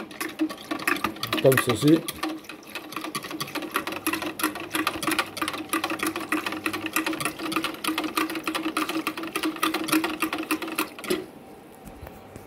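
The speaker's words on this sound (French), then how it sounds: "vous prenez votre fouet et vous commencez à fouetter gentiment votre préparation" A hand whisk beats a preparation in a bowl, a fast steady metallic ticking that runs for several seconds and then stops abruptly, with a brief spoken phrase near the start.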